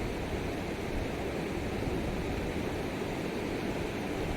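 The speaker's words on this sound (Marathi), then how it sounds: "हिरण्यकेशी नदी" The Hiranyakeshi river, swollen after flooding, rushes in a steady broadband roar of flowing water, loud and continuous with no voices.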